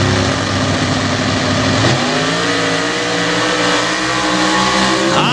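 Super stock drag racers, a blue Ford F100 against a Chevy Stepside, launching at the strip with a loud roaring engine blast that drops in pitch as the trucks pull away.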